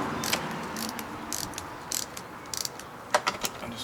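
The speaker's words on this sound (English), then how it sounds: "I'm just going to tighten them up gently first, just so they're nipped up." A socket ratchet tightens bolts on a Kawasaki KDX200SR dirt bike during engine reassembly, bursts of quick close clicking repeated several times with brief pauses, the last set sharper and louder.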